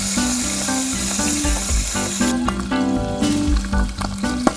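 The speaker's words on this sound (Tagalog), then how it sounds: "Gaano katagal ipiprito yan?" Lechon kawali, pork frying in hot oil, gives off a loud, dense crackling sizzle with sharp popping bursts and scraping clatter, close up, with no talking.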